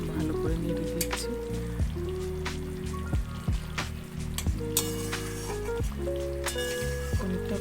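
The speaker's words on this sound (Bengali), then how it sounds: "ভালো করে নেড়ে দিচ্ছি।" Paneer curry being stirred in a pan on a home stove: continuous sizzling with repeated scraping strokes and light clinks of the spoon, steady throughout.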